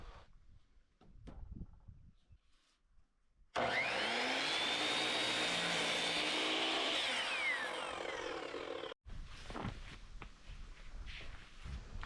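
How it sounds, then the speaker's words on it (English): A power saw runs loud and steady for several seconds while cutting and mitering wooden trim at 37 degrees for an off-grid island cabin in Canada, with quieter handling knocks before and after. "After cutting the trim to length, I miter the top at 37 degrees to match the pitch of the roof."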